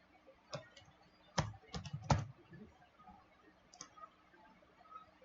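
Sharp, dry computer clicks come in a short irregular cluster, with a few isolated clicks before and after, close and fairly quiet against a faint room hum.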